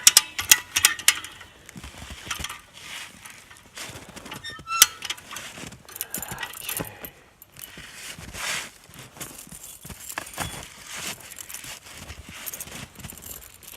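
A maple sap main line being pulled tight, with close mechanical ratcheting and clicking, creaking and rustling in repeated bursts at a steady moderate level.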